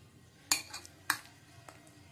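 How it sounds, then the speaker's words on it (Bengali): Eggs and green bananas are mashed in a bowl in a small kitchen, giving two sharp utensil clinks followed by softer taps, all quiet and close with no talking. "এটা ডিম দিয়ে কাঁচকলা দিয়ে আমি ভালো করে ম্যাশ করে"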